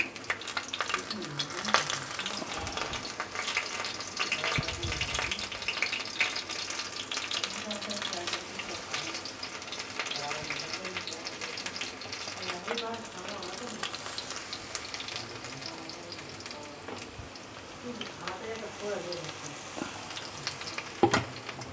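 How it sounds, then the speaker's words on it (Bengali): Pakoras of flat beans frying in oil on medium-low heat, a soft continuous bubbling sizzle with occasional faint clinks and shuffles, quiet and fairly close, with no clear talk. "আমি মিডিয়াম থেকে একদম কম আছে এটাকে আমি ভেজে নেব।"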